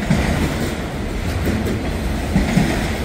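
An auto rack freight train rolls past close by with a steady loud rumble and faint clickety-clack from the wheels, and no voices are heard.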